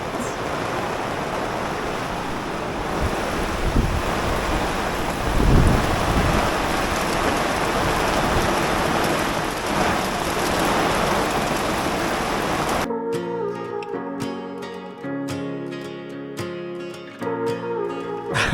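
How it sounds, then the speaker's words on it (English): Heavy, steady downpour roaring continuously on a VW California campervan during a storm with strong winds, dense and close, for a long stretch before giving way abruptly to music. "that was just torrential rain that we've just had come out of nowhere"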